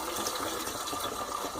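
Water runs steadily from a kitchen tap over a stove, a constant close gushing stream with no pauses and no voices.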